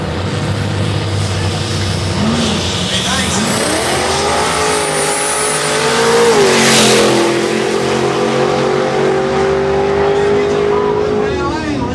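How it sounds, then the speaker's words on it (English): Chevrolet Nova race car at a street drag race, its engine spooling up with rising and falling revs, crackling pops and a tire squeal, loud and close, with a crowd and an announcer talking over it. "BJ gonna get the Nova on the left, spooling and popping"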